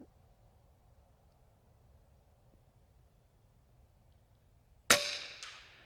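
A single FX Panthera competition air rifle shot rings on a steel target, a sharp crack with a bright metallic ping that decays after a long quiet lead-in, with no talking.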